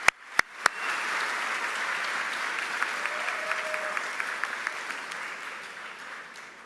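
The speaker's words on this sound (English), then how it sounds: "But another round of applause for our concert choir as they go back." A high school graduation audience applauds the concert choir: a few sharp claps open, then a steady wash of clapping fills the room, with a brief voice faintly audible midway.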